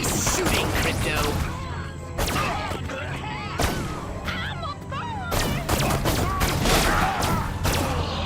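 Alien ray-gun fire and explosions in the Destroy All Humans video game crackle in dense, loud bursts with sharp impacts, mixed with shouting voices.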